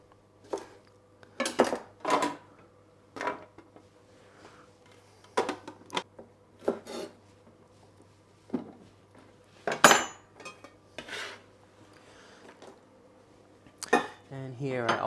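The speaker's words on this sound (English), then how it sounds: "I'm just going to cut up some green beans" A knife chopping green beans on a cutting board, giving a series of sharp, irregular taps and clicks close by, spaced with short pauses over a low steady hum.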